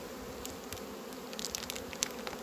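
Honeybees hum around a small colony at the hive, a steady faint drone with brief nearer buzzes passing by.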